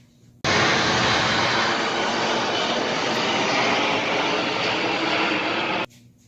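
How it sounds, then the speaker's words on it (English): A fixed-wing airplane passes overhead with a loud, steady engine roar. The sound starts abruptly, holds at an even level for about five seconds, then cuts off, and no one speaks over it. "Hold on, it's a damn plane."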